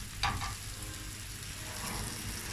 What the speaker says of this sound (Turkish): Diğer yüzünü kızartırken tavamızın kapağını kapatacağız.